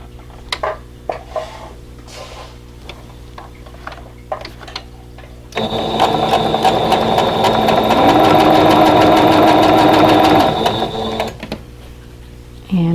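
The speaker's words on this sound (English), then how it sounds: "place the pieces right sides together and stitch them with a 1/4 inch seam allowance" Sewing machine stitching quilt pieces with a quarter-inch seam: scattered handling clicks and soft bumps, then a loud, steady mechanical whir for about five seconds before it stops, with a short thump at the end.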